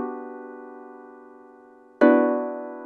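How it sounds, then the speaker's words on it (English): A harp sound played in FL Studio for a trap-style beat: one long ringing chord slowly fading, then a fresh, sharper pluck that rings out again, clean and close with no voices. "I grabbed the harp."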